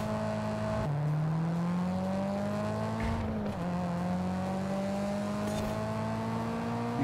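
A race car in Forza Horizon 5 roars loudly and continuously, its engine pitch climbing steadily with two clear gear shifts, under a faint whirring background and no talk.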